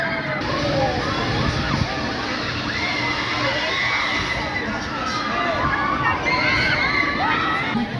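Riders scream and shout on a thrill ride at the Imagicaa theme park in India, a dense, continuous wash of many voices with rising shrieks over a noisy crowd backdrop.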